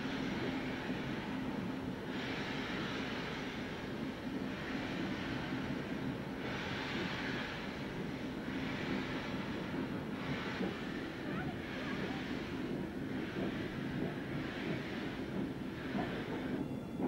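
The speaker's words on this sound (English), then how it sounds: "The sound of trucks and wagons which were simply chained together rather than precisely coupled." Steam-era railway trucks and wagons loosely chained together rather than coupled roll along, a continuous low rumble with repeating rhythmic surges as the loose-linked stock moves, faint and steady under wind-like noise.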